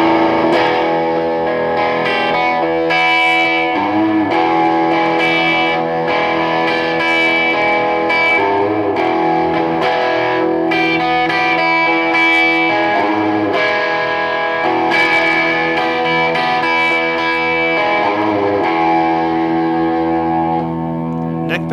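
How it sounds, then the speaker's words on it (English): A 2008 Gibson SG Special electric guitar in limited-edition Blue Mist played through heavy distortion, chords and riffs ringing loud and sustained with a thick, saturated tone that continues without pause for over twenty seconds. "So I'm gonna go ahead and try it with a little bit of distortion now."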